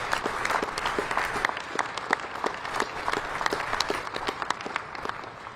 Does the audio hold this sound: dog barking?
no